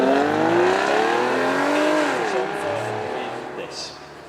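A V12 front-engined supercar with 540 horsepower, one of 98 built, revving hard at a supercar weekend; a loud, close engine note climbs, dips and settles under someone commentator's voice.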